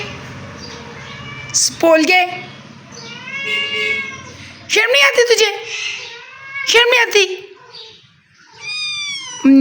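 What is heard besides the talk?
cat meowing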